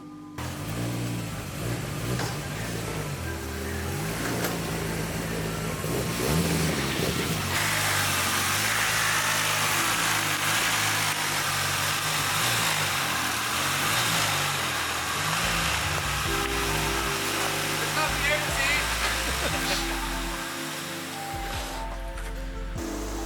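A Volvo 940 drift car with a B230 engine runs loudly and continuously, its pitch rising and falling as the revs change, with a strong low rumble throughout.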